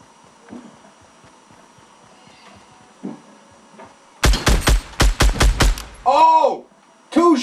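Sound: gunshots in the video game Fortnite

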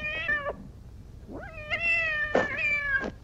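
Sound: cat meowing in Star Trek episode Catspaw

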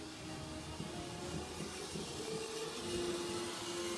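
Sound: toy train running

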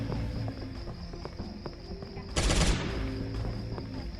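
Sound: gunfire in Jurassic Survival video game

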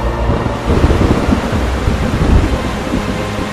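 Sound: sudden heavy rain and thunder in an animated film

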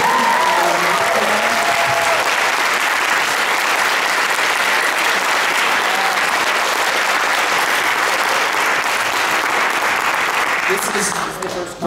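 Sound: audience applause for the musicians

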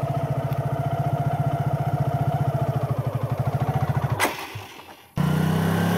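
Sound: motorcycle engine revving as accelerator is given

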